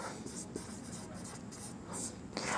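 Pen or chalk scratching out a geometry proof about a triangle's angle sum, a steady dry scraping with short strokes and taps, close and continuous.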